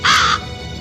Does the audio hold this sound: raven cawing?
yes